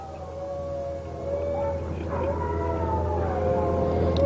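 Dogs or wolves howl in long, wavering drawn-out tones, several voices overlapping and rising together over a steady low hum, fairly loud and continuous throughout.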